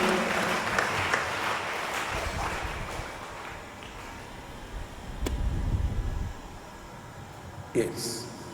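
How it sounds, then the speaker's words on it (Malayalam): Audience at a Catholic prayer retreat in Kothamangalam claps and cheers in thanksgiving, a broad wash of applause that swells mid-way and fades, with a loud voice over it. "കൈയടിച്ച് ഒന്നുറക്കെ കൈയടിച്ച് കർത്താവിന് നന്ദി പറയാം."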